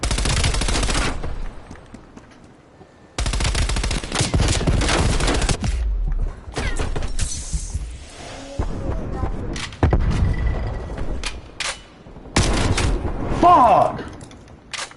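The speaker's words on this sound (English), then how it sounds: "I love that sentry turret." Rapid automatic gunfire from a sentry turret in a Call of Duty match, loud bursts of rattling shots broken by short pauses and explosions, with people talking over the action.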